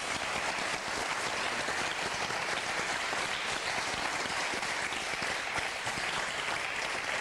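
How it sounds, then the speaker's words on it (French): Studio audience on the French game show Motus applauds loudly and steadily, a dense unbroken wash of clapping with no voices over it. "Jean-Olivier, qu'on va applaudir très fort"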